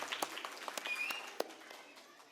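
An audience claps after a dance performance by students and teachers of the SBM branch, a dense patter of many scattered hand claps, fairly soft and distant, with a brief thin whistle-like tone partway through and the clapping thinning toward the end.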